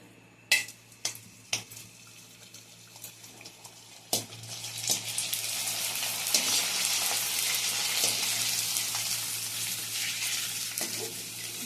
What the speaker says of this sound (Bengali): তেলটা গরম হয়ে গেছে, ফুচকাগুলো দিয়ে দেবো একে একে